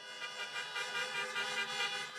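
Several car horns honk at a get-out-the-vote political rally in Pittsburgh, a layered, sustained blare of overlapping toots held steadily across the whole moment with no talk.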